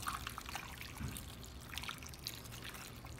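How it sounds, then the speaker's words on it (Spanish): Water poured into a pot holding sweet potato and piloncillo, a quiet steady trickle and splash running throughout, faint and close, with no one speaking. "por último, le vamos a poner agua"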